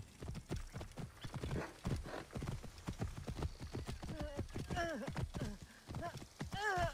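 Horse hooves clip-clop in a steady rapid rhythm during riding in Assassin's Creed Origins, with a horse's whinny partway through and someone talking over the hoofbeats.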